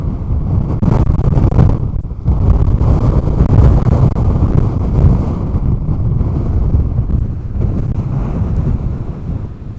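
Strong wind buffets the microphone at a hilltop viewpoint on Aruba's Franse Pas, a continuous rough roar that swells and eases for nearly ten seconds with no voices.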